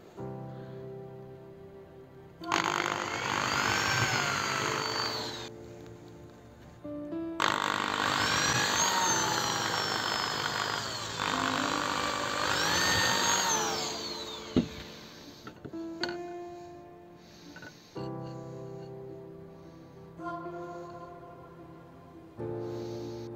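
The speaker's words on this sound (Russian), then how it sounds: "Нам нужно все точно засверлить по метках." A power drill bores holes through wooden side bars for beehive frames, with a whining run in several long bursts, each followed by a pause and a few brief handling knocks.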